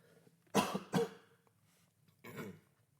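Three harsh coughs: two close together, then a pause and one more, loud and near with no talking.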